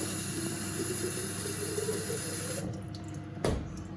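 A bottle being filled about halfway with water from a kitchen tap, a steady running stream for a few seconds that cuts off, followed by a brief clunk.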